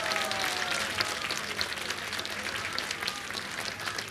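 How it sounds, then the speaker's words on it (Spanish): Audience applause for dancers at a public ceremony in San Isidro, Peru: dense, steady clapping from a sizable crowd, continuous and fairly loud for the whole stretch with no pauses. "Fuerte aplauso para los danzantes"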